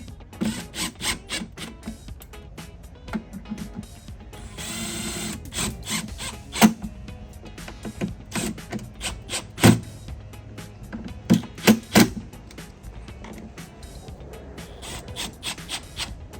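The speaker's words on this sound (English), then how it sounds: "Now you can start to tighten. And you're going to watch the gasket compress as you tighten" Screws being tightened by hand to compress the gasket on a 5x7 to 6x9 speaker adapter for a Harley-Davidson touring bike, heard as scattered close clicks, creaks and rasping turns at an uneven rhythm.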